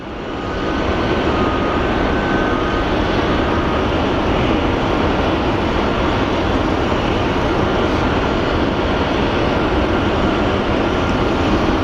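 A Delta Airbus A320neo jet airliner at Phoenix Sky Harbor Airport gives a loud, steady, broadband engine roar that holds for about eleven seconds without a break, with no talking over it.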